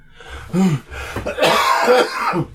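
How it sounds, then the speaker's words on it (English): A person nearby coughs a few times and clears their throat, short harsh bursts with small pauses between, from a lingering cold. "I'm also still getting over the coughing part of the cold"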